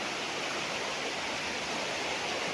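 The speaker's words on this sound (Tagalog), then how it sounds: "Isang magandang ilog." A river beside a farm lot in Majayjay, Laguna, rushes in a steady, dense wash of water noise, close and unbroken, with no voices.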